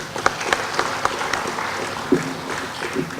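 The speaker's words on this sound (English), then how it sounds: "we must also give him a big applause" An audience applauds during a plenary session of an ASEAN forum: steady, moderately loud clapping from a crowd with a few sharper individual claps standing out, continuing throughout.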